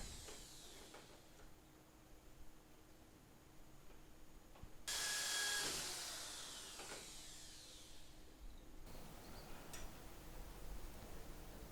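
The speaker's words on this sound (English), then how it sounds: "Drilling out the holes." A power drill whirs up in a short, loud burst, then winds down, amid quiet room noise and light tapping.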